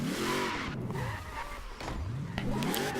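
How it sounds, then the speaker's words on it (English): A NASCAR-style car in the video game Forza Horizon 4 does a burnout on low-pressure tires, the engine revving up and down in wavering sweeps under a continuous tire squeal, loud and close. "we gotta do a burnout first. Get tires warmed up"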